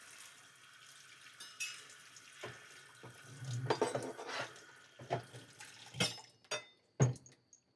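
Seafood gets rinsed under a running tap at a kitchen sink: faint, uneven splashes and water bursts, with handling clunks against the basin, growing louder toward the end and coming in short separate gushes.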